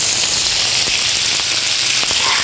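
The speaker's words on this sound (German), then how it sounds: "Wenn die Hautseite knusprig angebraten ist, wende ich die Hähnchen, gebe etwas Butter" Corn-fed chicken breast fries in a pan of butter with thyme, giving a loud, steady, close-up sizzle with faint scattered crackles and no talking.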